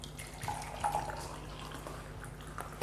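Oil poured from a glass into a glass of water, a faint trickle with a few soft liquid drips over steady background hum.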